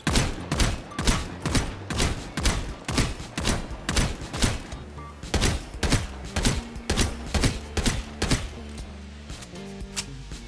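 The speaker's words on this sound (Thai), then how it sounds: "ทุกคนจะสามารถกดปุ่มค้างไว้และยิงทีละนัดแบบนี้ได้" Single gunshots fired one at a time in the video game Strinova, about two dozen sharp, loud reports at a quick, fairly even rhythm with faint game sounds between them.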